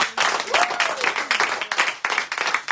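Church congregation applauding during a French-language sermon, dense steady clapping throughout with a brief whistle-like tone and a faint voice underneath.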